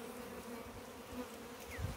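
An Italian honey bee hums faintly around a honey-filled hive, a steady thin buzz with a soft swell partway through and some low handling rustle near the end, no voices.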